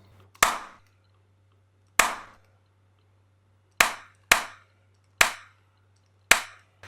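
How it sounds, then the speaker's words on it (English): Layered clap drum sample, a sharp clap stacked with a deeper second clap, struck six times in an uneven pattern, each hit crisp and dry with a quick decay into silence. "I actually want to layer that clap sound with another one, with this second one, which is a bit deeper in sound."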